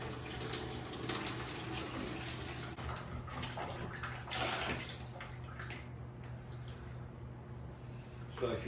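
Water draining out of a Miele washing machine into a bucket, a soft continuous trickling and splashing flow, faint and close, with occasional quiet voices in the background.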